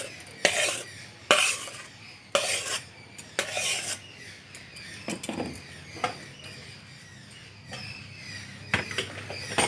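Raw mango puree is poured onto an oiled plate and stirred for mango leather, giving repeated scraping and rubbing strokes of a spoon on the plate, some louder and close, in an uneven rhythm without speech.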